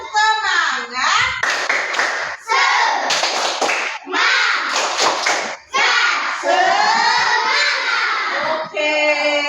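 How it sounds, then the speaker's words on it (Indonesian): Children in a first-grade class chant together in a sing-song rhythm, punctuated by bursts of unison clapping, loud and close. "Kita tepuk semangat dulu ya."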